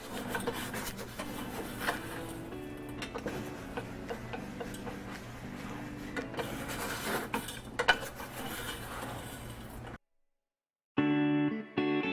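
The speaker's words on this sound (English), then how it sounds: "You just want to continuously keep stirring it so that it doesn't start to burn." Caramelizing sugar stirred steadily in a pan gives a continuous scraping rasp against the metal, fairly close and even. The sound breaks off into a second of silence, then a brief louder burst.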